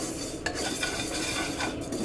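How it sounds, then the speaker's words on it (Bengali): Mung dal, with a little masoor dal, being fried and stirred in a pan for khichuri at home, giving a steady scraping of a utensil against the pan with faint sizzling and metallic clinks, with no voices. "ডালটা ভাজা হোক।"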